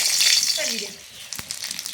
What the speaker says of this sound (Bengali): আলুর জন্য তেল লঙ্কাটা ভেজে নেবো হয়ে গেছে দিয়ে দিচ্ছি সরষের তেল শুকনো লঙ্কা